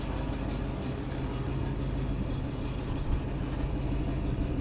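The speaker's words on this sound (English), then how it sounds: "First drive, 71 Montego. Let's go right down the ramp." 1971 Ford Montego wagon with a 351 Cleveland V8 and four-speed, low steady engine rumble heard from inside the car as it pulls away, continuous and moderately loud with no talking.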